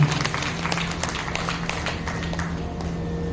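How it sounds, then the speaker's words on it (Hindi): Applause from an audience at a Shrimad Bhagavat Katha religious gathering in Mayur Vihar, a steady dense patter of many hands clapping continuously under a low hum, with no talk over it. "उनका भी जरा जोरदार स्वागत, जोरदार तालियां।"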